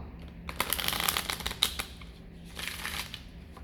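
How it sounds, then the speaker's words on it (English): Cards riffled in a quick rattling burst, followed by a shorter second riffle; soft and close, with no voices. "Okay, so one shuffle to clear the deck."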